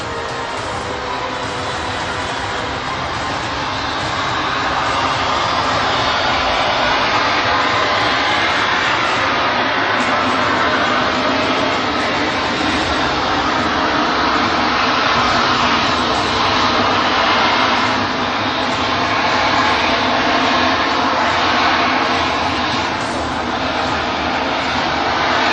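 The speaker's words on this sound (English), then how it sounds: "Here comes a Sea Harrier fighter aircraft from Virat, which will hover on the spot like a helicopter." A Sea Harrier fighter jet hovering at a naval fleet review, a loud continuous roaring jet blast that swells and holds steady throughout without breaks.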